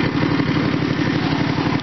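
An engine held on a hand throttle at about 3,800 RPM runs at a steady, fast, even chug. It is close and moderately loud, with a constant rhythmic drone and no talk.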